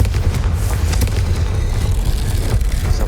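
A Confringo fire spell explodes in Hogwarts Legacy with a dense, rumbling boom that sustains loudly throughout without a pause.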